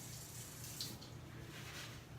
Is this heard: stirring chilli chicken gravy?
no